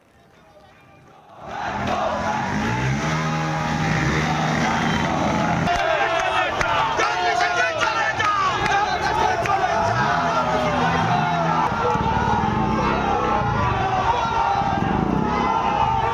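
A large crowd of political student activists chants slogans at a BJP leader's rally, with loud, rhythmic, sustained group shouting and cries that begin abruptly and continue throughout.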